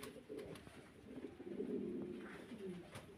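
Pigeons cooing in low, rolling murmurs, several birds overlapping steadily at close range with no talk.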